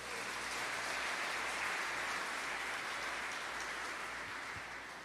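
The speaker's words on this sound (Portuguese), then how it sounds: "levanta as duas mãos e aplauda o Senhor por isso" A church congregation applauding together, a dense, sustained wash of clapping that fills the room and fades slightly toward the end.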